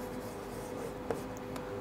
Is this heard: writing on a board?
yes